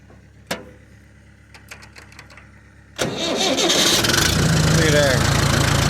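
An International Harvester 424 tractor's diesel engine, warmed by glow plugs, cranks with a few clicks and knocks, then catches and settles into a loud, steady rumble nearby.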